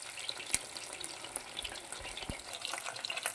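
Pakoras deep frying in hot oil for chilli chicken, a steady close bubbling sizzle with a few small sharp crackles and no talking.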